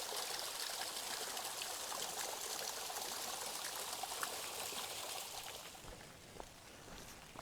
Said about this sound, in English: Kind of a pretty little waterfall here by the trail.